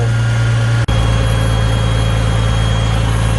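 Tractor engine running steady and loud, a deep low droning hum with a brief cut near the start, then continuing without voices.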